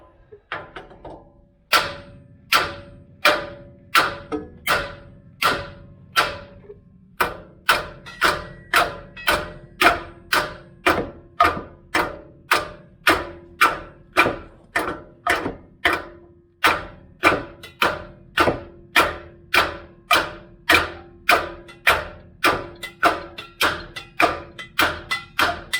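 Dozens of hammer blows tap steadily on a seized nut on the rear axle of a 1991 Range Rover, each a sharp metallic knock at a regular rhythm, close and loud, after a short pause near the start.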